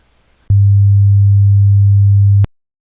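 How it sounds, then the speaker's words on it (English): A pure 100 Hz sine tone, a steady low hum that starts abruptly, holds at constant loudness for about two seconds and cuts off with a click, followed by silence. "The graph on the bottom is a pure sine wave with a frequency of 100 Hz."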